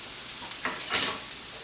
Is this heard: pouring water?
no